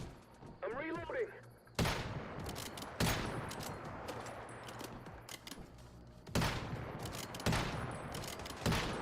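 Gunfire in the Once Human video game: several loud, sharp shots at uneven intervals, each trailing into rumbling noise, with a voice heard briefly at the start.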